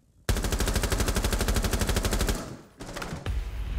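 Sustained automatic gunfire sprayed into a wall in the shooter game Rainbow Six Siege, a loud rapid burst of shots that stops briefly, then resumes for another short run.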